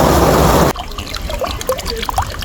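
Water trickles and flows in a clean river at Puting Kahoy, Rosario, Batangas, a loud rushing burst at first, then lighter close burbling and dribbling for the rest.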